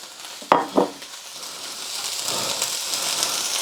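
King prawns sizzle steadily in a hot pan, a continuous crackling hiss with two sharp clatters near the start and the frying growing slightly fuller toward the end.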